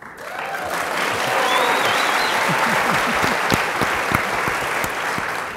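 Steady applause from a large audience greeting the introduction of a panelist at a panel discussion, dense and sustained throughout with a few sharper individual claps near the front and faint voices mixed in.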